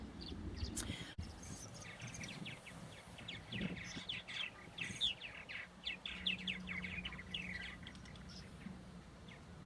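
A flock of purple martins calls and chatters around a martin house, with many short chirps overlapping in a busy, fairly distant chorus over faint background hum for the whole stretch.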